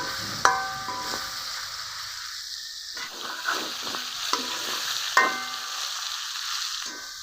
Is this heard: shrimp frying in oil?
yes